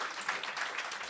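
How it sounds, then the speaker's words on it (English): A brief burst of audience applause at a meeting, many hands clapping in a dense, even patter, heard faintly as a short snatch. "very big round of applause"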